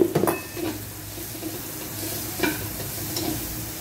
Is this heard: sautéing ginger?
yes